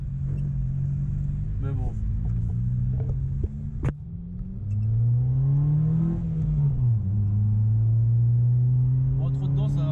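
A truck rumbles past nearby on a road, heard from inside a Peugeot 106, its low engine drone rising and falling as it goes by, with a few spoken words over it.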